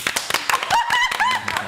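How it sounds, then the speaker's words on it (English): Hands clap in a quick, uneven run of sharp claps mixed with tapping, heard close and under overlapping casual talk. "Clap."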